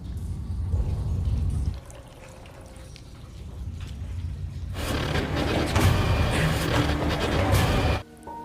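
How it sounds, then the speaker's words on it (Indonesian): Water runs from a bathroom tap in a villa, a steady splashing gush that stops, then restarts louder and cuts off abruptly near the end. "suara keran air yang menyala"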